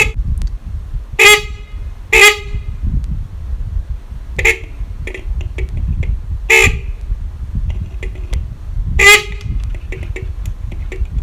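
A Honda CD 70 motorcycle horn being adjusted sounds off in about six short, loud, close beeps at irregular intervals over a low background rumble.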